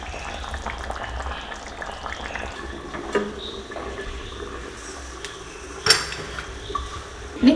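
Tapioca pieces boiling in a cooking pot on a Kerala stove, a steady low bubbling and rumble with a few sharp pot clanks and taps near the end, no talking.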